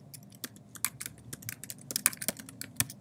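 Quick, light clicks of a computer keyboard being typed on, irregular and close, with no voices.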